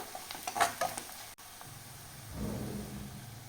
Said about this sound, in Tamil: மஞ்சள் தூள் சேர்த்து கலந்து விட்டுக்கலாம்